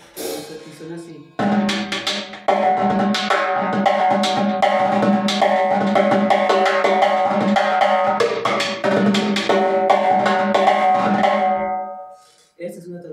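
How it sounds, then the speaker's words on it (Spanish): A timbal played by a drummer in a continuous rhythmic pattern, with bright, ringing strikes and rolls that carry on loudly for about ten seconds before stopping. "Es un timbal que suena así."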